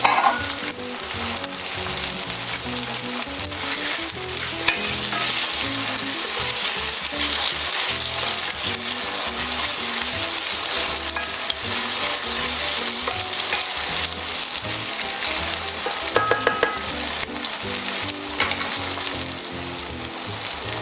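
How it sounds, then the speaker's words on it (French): Cèpe mushrooms for a flambéed cognac coquelet fricassee fry in a pan and get stirred, a loud, dense, steady sizzle with occasional scraping of the utensil, close up and with no talking. "Les champignons, je vais les faire revenir un peu."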